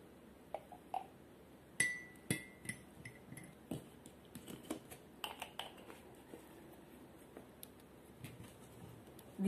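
A honey mixture is stirred in laboratory glassware, producing a series of light, irregular clinks and taps of glass against glass, close and quiet, with no talking.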